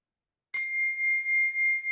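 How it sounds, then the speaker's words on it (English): A temple bell is struck once after silence, its bright, pure tones ringing on clearly and fading only slowly, close and alone. "a beautiful bell, a temple bell"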